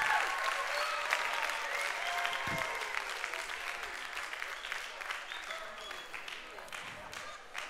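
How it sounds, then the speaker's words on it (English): Audience applause for pastors at a church conference forum, a loud, sustained crowd clapping that fills the whole stretch and slowly fades, with voices mixed in. "let's give a round of applause to all the pastors"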